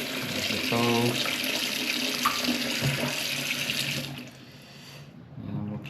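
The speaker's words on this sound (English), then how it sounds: "just turn the water back on the isolation valve" Water runs steadily from a tap after the supply is turned back on at the isolation valve. It is a close, continuous rushing hiss that tapers off near the end, with faint background sounds.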